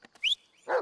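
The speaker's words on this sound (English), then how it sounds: "Why is he barking like that?" A dog barks in the horror video game Blair Witch, a high sharp yelp followed by a deeper bark, both close and clear against silence.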